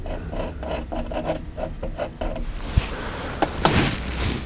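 Flat palette knife scraping backwards through oil paint on a palette while loading, a run of short rhythmic rasping strokes followed by a few sharper taps and scrapes, close and moderately loud.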